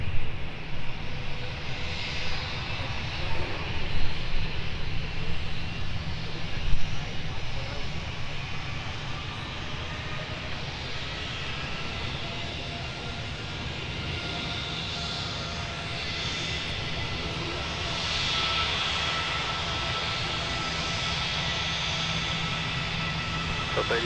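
An aircraft landing on runway 12 right at Minneapolis–Saint Paul airport gives a long, broad engine roar that swells and fades. Radio voices talk over it at times.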